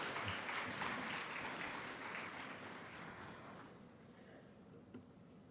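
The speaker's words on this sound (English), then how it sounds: "but you should be clapping for them" Parents applaud graduating students at a college graduation ceremony, a broad steady wash of clapping that fills the space and slowly tapers toward the end.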